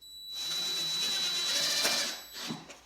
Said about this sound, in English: So I'm just going to put 4 screws in here.